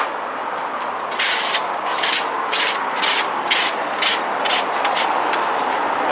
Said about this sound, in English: Then I take my 4-inch razor and I scrape it off.